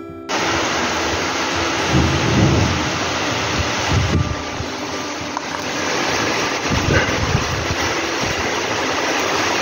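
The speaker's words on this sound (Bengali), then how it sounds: "আর বাইরে ঝড় বৃষ্টি আরম্ভ হয়ে গেল" Steady heavy rain roars continuously, with low rumbles of thunder swelling and fading beneath the downpour.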